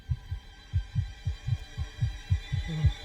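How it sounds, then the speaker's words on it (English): A heartbeat sound effect from The Amazing Digital Circus thumps in a steady, evenly spaced double-beat rhythm, loud and low, alone without any talk. "Heartbeat."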